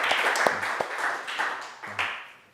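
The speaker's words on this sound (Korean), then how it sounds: "변성기 찬양단에게 우리 한번 격려의 박수를 한번 줍시다." A church congregation giving encouraging applause to the youth praise team, a short burst of scattered claps at modest volume that fades out, with a voice speaking over part of it.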